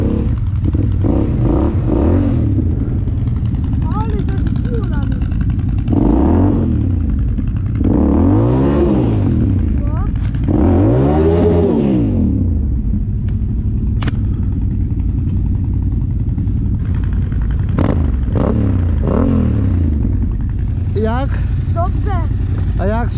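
A Yamaha MT-07 motorcycle engine runs throughout while riding, rising and falling in pitch as the rider revs and eases off the throttle, with voices talking over it.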